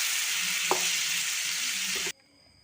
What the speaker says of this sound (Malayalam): ഇതിലേക്ക് നമ്മൾ കൂർക്ക ഇട്ട് കൊടുക്കുക. എന്നിട്ട് നന്നായിട്ട് മിക്സ് ചെയ്യാം കേട്ടോ